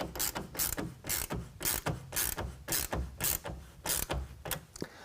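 A ratchet wrench with a 9/16 socket tightens the clamp of a GatorTrax MX electric tonneau cover on a 2020 Ram 2500. About a dozen quick, close clicking strokes repeat in a steady rhythm.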